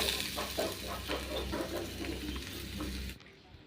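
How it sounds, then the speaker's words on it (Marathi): Diced potato stirred into a pan with turmeric and red chili powder for vada mirchi stuffing, giving a steady close sizzle with scraping stir sounds that stop abruptly near the end. "आता बटाटा आपण परतून घेऊया"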